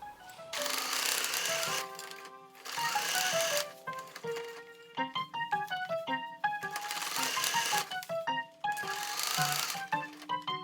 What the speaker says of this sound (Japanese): ファスナーをつけていこう。